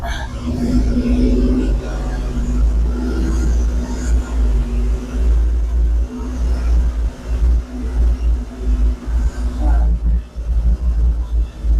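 A 1970 Ford F250 dually truck with weak, failing brakes rumbles steadily along close by, its low engine drone continuous throughout while someone talks over it.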